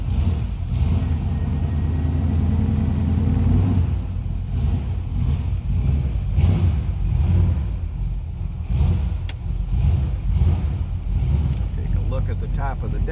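A 1969 Plymouth Road Runner V8 runs after starting, a loud, rough, steady rumble close to the microphone with wind buffeting, and someone speaks over it.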